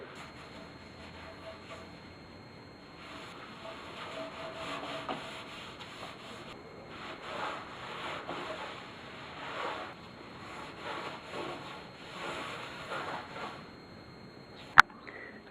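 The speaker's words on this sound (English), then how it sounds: "Put it on the newspaper, and then I just rub it in." Linseed oil being rubbed by hand into wooden boards for a raised garden bed using a wad of newspaper, giving a steady soft scuffing and rubbing texture at close range, with a brief sharp knock near the end.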